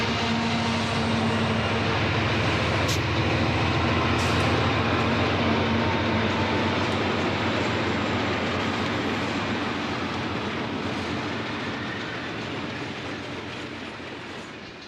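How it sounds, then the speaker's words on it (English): An EMD SW1500 switcher locomotive, bought in 1966–67, rumbles past with its train, a loud steady rolling roar with clattering wheels that slowly fades as it moves away. "This is one of the 9 SW1500 EMD switchers that were bought in 1966 and 1967"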